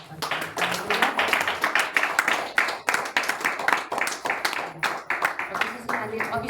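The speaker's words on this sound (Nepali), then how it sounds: "हामी सम्पूर्ण मण्डली परिवार है ताली बजाएर उहाँलाई स्वागत गर्छौँ।" A church congregation claps together in welcome, a steady run of many hands clapping at moderate distance, continuous for several seconds with brief dips, voices faintly mixed in.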